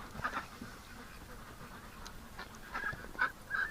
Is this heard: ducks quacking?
yes